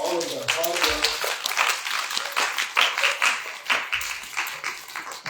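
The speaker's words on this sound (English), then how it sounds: "let's give them a hand of applause for all of their hard work" Audience applause at a church Awana Sunday for the young Awana workers, scattered clapping filling the room with voices talking over it throughout.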